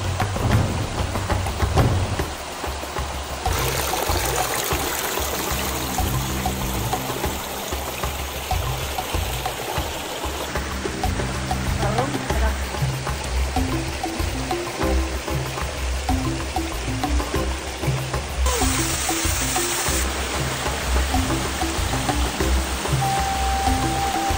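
Linaw Busay Falls in Libon, Albay: a steady, loud roar of rushing water pouring without pause, close by and dense throughout, with no voices.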